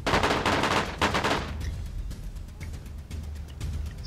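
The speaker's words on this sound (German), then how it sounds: "Schüsse bei uns. Wir werden hier sterben." Rapid bursts of gunfire in the video game DayZ crackle loudly for the first second and a half, then give way to quieter distant shots over a low rumbling background.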